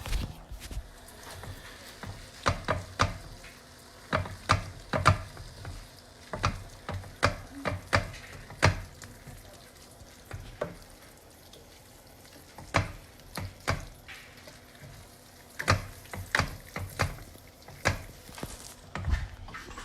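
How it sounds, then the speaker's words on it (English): Tomato paste and onion frying in a pan, with steady quiet sizzling broken by frequent scraping and clacking of a utensil stirring against the pan in irregular bursts. "all I'm trying to do here is caramelize the paste a little bit in with this onion"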